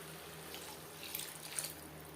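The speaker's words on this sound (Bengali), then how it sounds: "দিয়ে দেবো জল" Water poured into a pan of egg curry, a faint steady splashing stream with a few slightly louder gushes and no talk.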